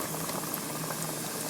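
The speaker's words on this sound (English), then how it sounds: "We're going to let that fry up maybe about 2 or 3 minutes." Pieces of sheephead fish frying in hot oil give a steady, dense sizzle and crackle, close and continuous, with no talking.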